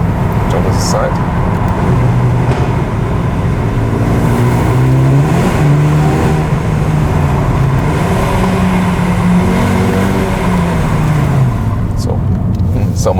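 Mercedes-AMG A35 driving through a road tunnel with a window open, a loud steady engine and road roar with rising and falling tonal engine notes throughout, sustained and close.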